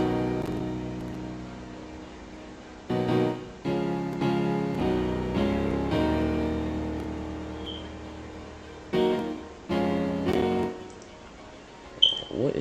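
A grand piano part from a beat production program plays in sustained chords with several louder struck notes spaced irregularly, ringing and decaying between hits.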